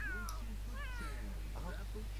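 A cat meows several times in quick succession, close and clear over a low steady hum, with a human voice talking alongside.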